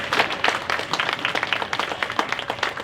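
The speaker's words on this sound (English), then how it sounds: "Give it up a round of applause for all the fursuiters for volunteering" Audience applause for fursuiters at a furry convention opening ceremony, a moderate crowd clapping steadily with a dense patter of hand claps, fairly close and without speech.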